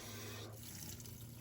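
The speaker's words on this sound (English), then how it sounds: "I have running water into my kitchen sink." Water runs from a newly plumbed kitchen sink tap in an off-grid home, a faint steady trickle and splash heard briefly with no talking.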